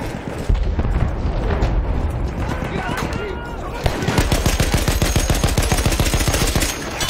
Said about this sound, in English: I should get past this machine guns or else they'll slaughter me up.